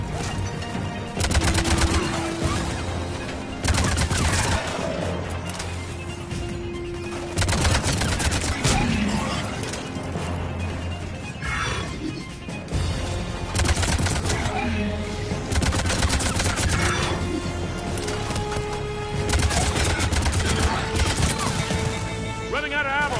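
Bursts of automatic gunfire and single shots crack repeatedly in a Mass Effect 3 firefight, loud and close, spread in clusters over a steady background of game noise.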